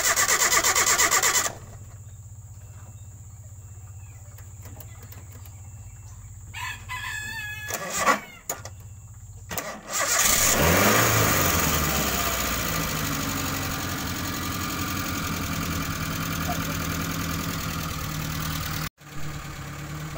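A car engine that suddenly would not start cranks a few times, then catches and revs up loudly before settling into a steady idle; a rooster crows faintly early on.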